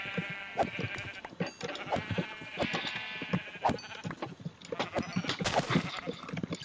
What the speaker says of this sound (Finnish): Siis kuinka helvetin paljon lampaita täällä nyt on?